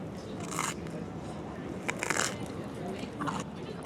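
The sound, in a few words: biting crunchy square pizza slice with burrata and honey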